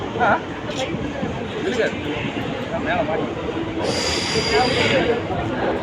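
A passenger train departing from Coimbatore rumbles and clatters steadily on the rails at close range, with a brief high wheel squeal and crowd chatter mixed in.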